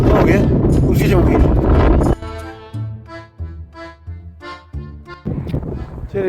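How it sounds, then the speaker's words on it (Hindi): Gusty wind buffeting the microphone outdoors in St. Petersburg, loud and roaring for the first couple of seconds, then returning in bursts between a man's speech. "बहुत ज़्यादा तेज़ हवा चल रही है."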